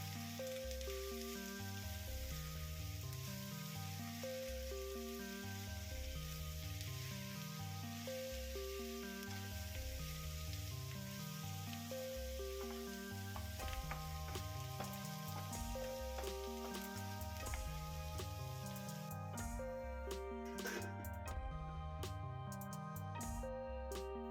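Bitter gourd with salt and turmeric cooking covered in a pan, a soft continuous sizzle and patter, with rhythmic music playing over it throughout.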